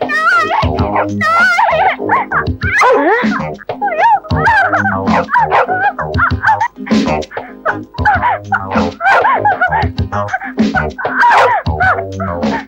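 A dog in a Tamil action movie barks repeatedly and loudly, mixed into a busy soundtrack with voices.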